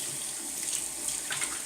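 A bathroom tap runs steadily into a sink while someone rinses off after a shave, a continuous close splashing hiss with small surges of water and no talking.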